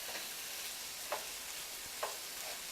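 Quiet scraping and soft sizzling as rice is stirred in a hot pot, with a couple of brief utensil scrapes against the bottom.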